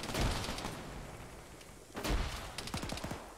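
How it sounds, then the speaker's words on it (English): Gunfire in the video game ArmA 3, two loud bursts of shots about two seconds apart, each ending in a short rattling run of rapid rounds, with no talking. "No, the guy behind me shot me."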